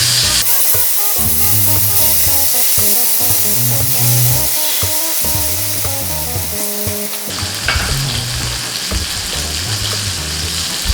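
Elephant foot yam pieces frying in a pan of warm oil, a loud, steady sizzle with bubbling and crackling that carries on throughout, shifting slightly as the pieces settle, with no voices.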